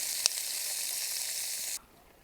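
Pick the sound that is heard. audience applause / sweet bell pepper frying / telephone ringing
sweet bell pepper frying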